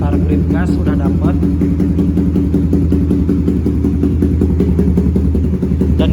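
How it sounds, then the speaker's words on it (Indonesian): A Suzuki GSX-R150 motorcycle fitted with a Proliner exhaust and a BRT Juken 5 ECU idles steadily and loudly up close, its engine note a continuous even rumble while a person talks over it. "Dan kita bisa dengarkan sendiri untuk putaran stasioner juga stabil di sini"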